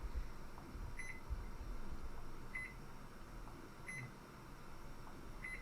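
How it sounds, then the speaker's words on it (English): A fridge beeping in a horror video game: four short, faint double beeps spaced about 1.4 seconds apart over a low, steady hum. "Why is the fridge beeping"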